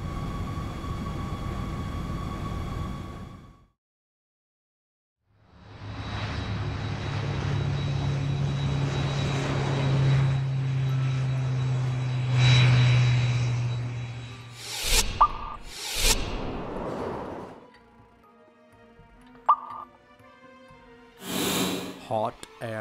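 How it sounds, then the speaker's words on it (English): A jumbo jet aircraft gives a loud, steady engine roar that swells in, holds for several seconds and then breaks off, followed by a few short, sharp unrelated noises. "Jumbo jet."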